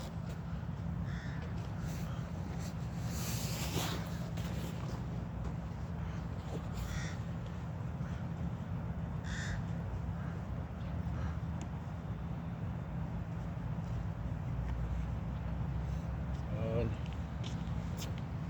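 Crows cawing at an outdoor bird feeding area. Short calls break through now and then over a constant loud background hiss, and someone speaks in Filipino at times.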